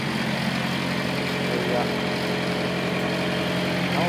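A 2012 Freightliner American two-axle refrigerated truck idles with a steady low engine rumble, exhaust on the far side, while someone speaks briefly over it.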